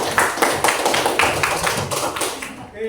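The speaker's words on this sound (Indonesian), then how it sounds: "tepuk tangan dulu untuk kita semua" A school class claps hands together for a few seconds, a fairly close burst of rapid, uneven claps that fades at the end.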